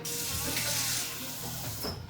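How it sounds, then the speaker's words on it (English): Water from a kitchen tap rushes steadily into a pot as it is filled for a stovetop water bath, a continuous close splashing hiss lasting about two seconds with no talking. "Fill it up with some water."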